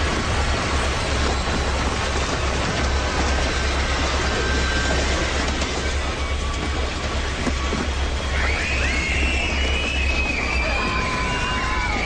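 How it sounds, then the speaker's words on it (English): A train rumbles past in a steady, loud, continuous roar that lasts throughout, with a faint squeal near the end and no clear voices. "It's just a train."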